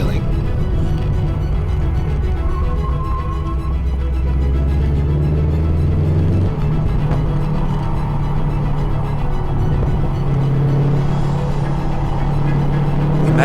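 A 2016 Subaru WRX STi driven fast on a race track gives a loud, constant engine roar heard from inside, with shifting pitch as it accelerates and holds speed, with no pauses.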